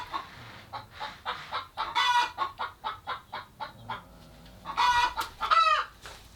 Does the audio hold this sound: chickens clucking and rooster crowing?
yes